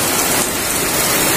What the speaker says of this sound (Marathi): आणि बघा मित्रांनो, खूप पाऊस पडतोय खूप